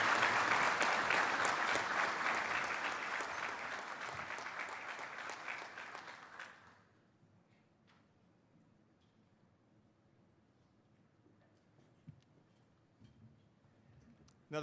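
Applause from a conference audience at the Land Forces Pacific gathering in Hawaii for Governor Green, a dense broad wash of clapping that holds strongly for about six seconds, then fades away to near silence with a few stray claps.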